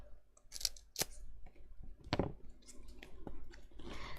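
Scissors trim paper for a laminated disc album cover with a few quiet, crisp snips and rustles close by, faint against a soft room background.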